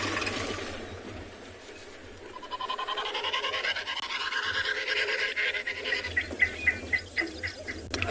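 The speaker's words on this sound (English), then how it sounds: "So that's the sound made by an African snipe." A recorded African snipe call plays back, an eerie rising and falling whirring tone with rapid pulsing beats that quicken and grow louder toward the end, over a low background hum.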